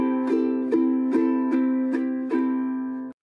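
A novice ukulele strummed in a down-up pattern, six evenly spaced bright chord strums ringing clearly on their own, close and clean before cutting off.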